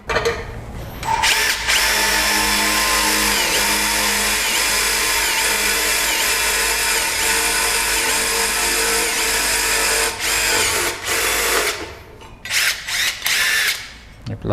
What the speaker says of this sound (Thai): สำหรับเจาะเหล็ก 3 มิลนะครับ